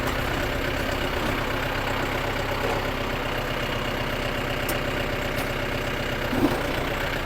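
A Yanmar YM358R tractor engine runs steadily with an even low throbbing drone, close and continuous throughout, with no talk over it.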